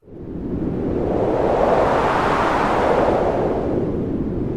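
A strong gust of wind roars up quickly, a broad rushing whoosh that stays loud and steady before easing slightly.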